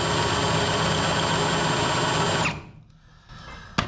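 A power drill runs at a steady high whine while boring into steering parts on a Jeep Comanche, then cuts off abruptly, leaving a quiet workshop and a single knock near the end.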